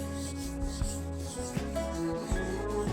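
Steel wool rubbing over a wooden furniture surface during refinishing, a steady close scratchy scrub with repeated strokes and brief pauses, alone with no talk.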